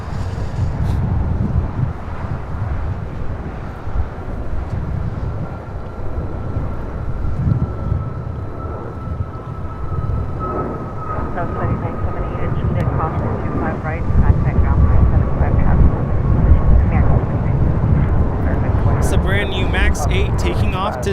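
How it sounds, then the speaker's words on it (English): A Southwest Airlines jet taking off from LAX for San Antonio produces a sustained low rumbling roar with a faint high whine, growing louder in the second half, with wind noise on the microphone. "Taking off to San Antonio, Texas, Southwest Airlines 2188."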